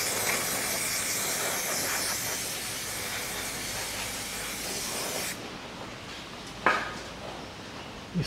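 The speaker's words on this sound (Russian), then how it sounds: "Также смазываю болты стойки." Lubricant sprays from an aerosol can onto the strut bolts of a 2012 Nissan Qashqai 1.6 during a clutch replacement, a close steady hiss lasting about five seconds, then a brief second short burst.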